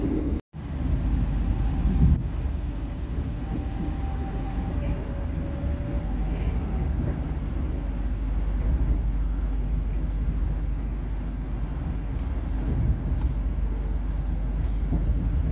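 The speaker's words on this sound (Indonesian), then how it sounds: "Kereta api Bogowonto melintas langsung stasiun Cikampek." A Bogowonto passenger train runs straight through Cikampek station without stopping, making a steady, loud rumbling roar with wind buffeting that holds throughout, heard from close by.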